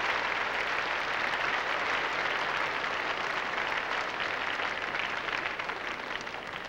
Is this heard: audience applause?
yes